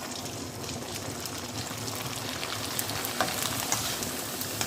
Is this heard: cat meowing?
no